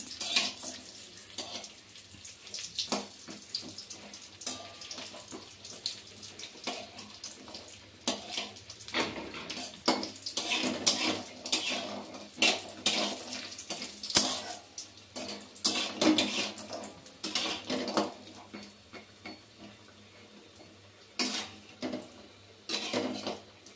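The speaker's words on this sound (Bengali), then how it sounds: "বড়িগুলো দিয়ে বেশ লাল লাল করে আমি ভেজে নেব" Lentil badi frying in hot oil, with a steady sizzle broken by scraping and clinking as the pieces are stirred in the pan. No one speaks.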